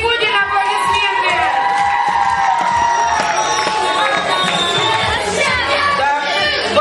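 Children cheering, whooping and shouting together at a camp intellectual football quiz game. The crowd noise is loud and continuous throughout, with excited voices layered over one another.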